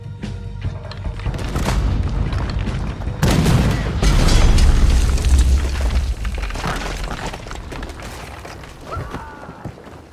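Heavy booming blasts and crashing impacts from a Red Dead Redemption 2 battle, with cannon fire and debris sounds layered together, loud and continuous.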